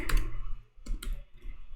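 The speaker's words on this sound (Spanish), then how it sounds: "Aquí simplemente le vas a dar clic en" A few sharp computer mouse clicks, one near the start and a pair later, close and crisp against a quiet background with light handling noise.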